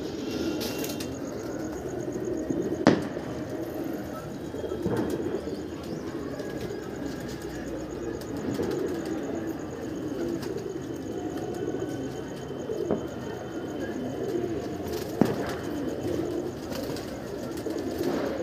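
Pigeons coo steadily in a low, continuous murmur around a rooftop loft of a flock kept for flying practice, with a couple of sharp knocks cutting through.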